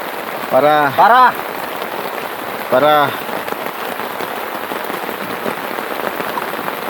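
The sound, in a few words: heavy rain falling while moto camping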